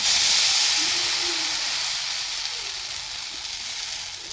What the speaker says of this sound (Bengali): তো এখানে কয়টা গরম হয়ে গেছে তো দিয়ে দিব আমি এক হাতা ব্যাটার